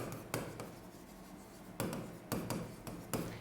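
Chalk or marker strokes on a board during an electronics lecture on transistors, a few short scratchy bursts separated by quiet room tone, fairly faint with no talking.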